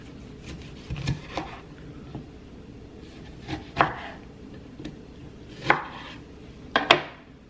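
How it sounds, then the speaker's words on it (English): A knife cuts lemons on a board in a kitchen, giving about six separate, close chopping knocks at uneven intervals against a quiet background. "Cut your lemons"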